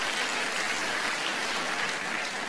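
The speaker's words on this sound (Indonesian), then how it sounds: "Tepuk tangan buat jemaat yang luar biasa." Church congregation applauding during a sermon, a dense steady wash of clapping with no gaps, fairly loud and continuous throughout.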